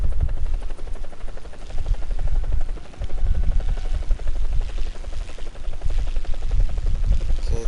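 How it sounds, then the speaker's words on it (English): In the video game War Thunder, a helicopter flies with a loud, continuous rotor chop and turbine hum, rhythmic and close throughout, with no talking. "Helicopters are weird to fly."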